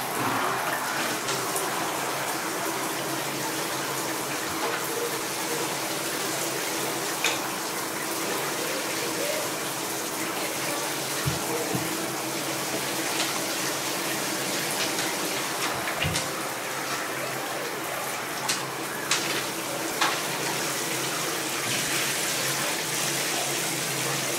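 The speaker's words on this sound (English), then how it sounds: "Now I'm going to just rinse him off and then dry him." Water streaming steadily over a Siberian Husky being rinsed during a bath, a continuous close gushing spray with occasional faint knocks underneath.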